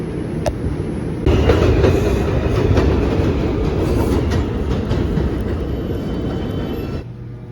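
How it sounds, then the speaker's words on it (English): A commuter train in motion, heard from inside as a loud steady rumble with faint rhythmic clatter of the wheels, which drops away abruptly near the end. "But I'm about to get on the train."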